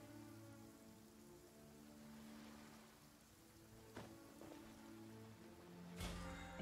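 Steady rain falling in the video game Genshin Impact, a continuous soft patter on surfaces throughout with a few brief louder drips and taps, heard alone without talk under a faint game background.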